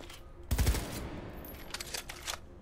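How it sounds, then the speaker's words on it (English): A burst-fire rifle in Cyberpunk 2077 lets off one sharp loud burst, followed by a few quieter rattling shots and mechanical clicks fading into the background. "It's kind of like a FAMAS and a G36 at a baby. Oh, it's burst fire."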